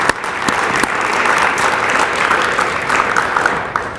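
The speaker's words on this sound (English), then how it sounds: "I want to give them a round of applause and thank them for their support." Loud, close applause from a breakfast audience at a veterans parade dignitary event, dense clapping with a few sharp individual claps standing out, continuous throughout with no talk.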